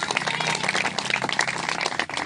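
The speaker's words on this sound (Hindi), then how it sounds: "जोर से ताली बजाएंगे।" A church congregation claps loudly together at a prayer meeting, a steady, dense burst of hands that fills the room before briefly dipping near the end.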